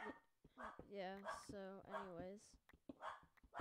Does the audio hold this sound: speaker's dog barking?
yes